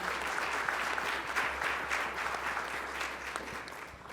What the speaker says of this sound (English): it's definitely deserving a round of applause